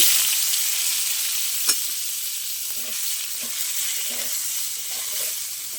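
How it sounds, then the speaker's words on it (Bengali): Potatoes fry in hot oil left from frying soya chunks, making a steady, moderately loud sizzle with a few soft clinks and scrapes of stirring and no voices. "ওই তেলে আমি আলুটা ভেজে নেব।"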